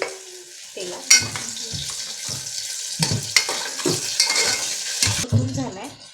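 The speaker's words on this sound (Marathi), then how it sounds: "हाही चांगला असा तेलात परतून घेऊ आपण" Ingredients sautéing in oil in a pan, a close sizzle with repeated scrapes and clinks of a spoon stirring against the metal, uneven in rhythm and moderately loud.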